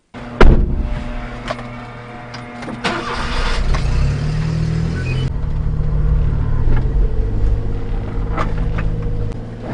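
A Honda Z50 mini motorcycle engine, fitted to a mini-truck build, starts with a sharp bang and then runs at a loud, close, uneven idle with a throaty rumble that shifts pitch slightly.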